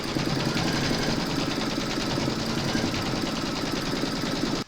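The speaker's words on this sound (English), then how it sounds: "pop your hoop into your machine and stitch round number 1, and that's going to give you a placement outline for your batting" Embroidery machine stitching a placement outline for a coaster, a close, steady rapid needle clatter with a rhythmic mechanical hum that runs continuously before stopping abruptly at the end.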